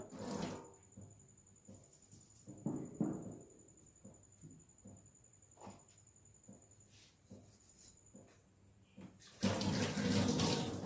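Dishes being washed by hand in a home sink, with soft clinks and knocks of utensils against the basin, and then a loud rush of tap water pouring in at the end, without any voices.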